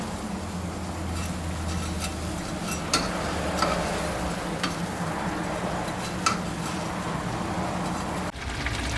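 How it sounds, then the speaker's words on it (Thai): Rice vermicelli noodles are stir-fried in bubbling seasoning liquid, giving a soft steady simmer and sizzle with intermittent stirring clicks and scrapes, then a brief drop near the end. "เราก็ใส่เส้นหมี่ลงไปเลยนะครับ ทีนี้เราก็จะผัดเคี่ยวจนน้ำงวด"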